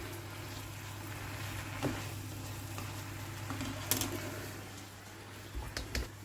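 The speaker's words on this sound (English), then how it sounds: "Cooking away, and when you're happy, bacon's cooked, turn off the heat." Bacon frying in a pan makes a low, continuous sizzle with occasional soft pops and stirring clicks, fairly quiet and close, with a steady hum underneath.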